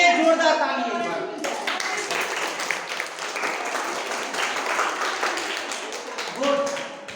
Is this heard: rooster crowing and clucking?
no